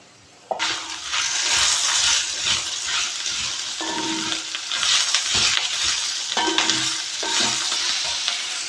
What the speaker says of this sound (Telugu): ఒక రెండు రెమ్మలు కరివేపాకు ఇలా ఫ్రై చేస్తుంటేనే చక్కగా మంచి ఫ్లేవర్ వస్తుంది